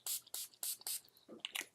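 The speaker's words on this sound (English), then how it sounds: "So I'm just going to prime my face with my NYX primer spray." NYX primer spray misted onto a face, four short hissing bursts in quick rhythm followed by softer handling sounds and a final spritz, close and fairly quiet.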